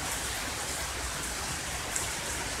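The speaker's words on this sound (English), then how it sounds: "It's raining really hard." Heavy rain pours steadily during a thunderstorm, a dense, even hiss of drops hitting surfaces close around, unbroken and loud with no talking.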